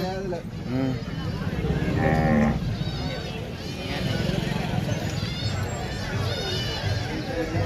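Oxen call with short bellows and bleat-like cries at the Wednesday bull market in Devarakadra, heard amid a busy crowd with people talking throughout.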